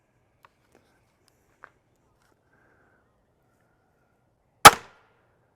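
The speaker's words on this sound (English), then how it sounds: "just hand shoot it about 10 yards just to make sure I'm somewhere close at the big target" A Ravin crossbow fires at a big target about ten yards away, one sharp, loud snap standing alone in near silence after a couple of faint clicks.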